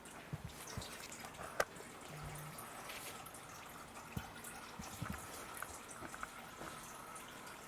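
Engine oil drains from a 2009 Audi A4 2.0 TDI in a quiet garage, a faint steady trickle with scattered drips and occasional small clicks throughout.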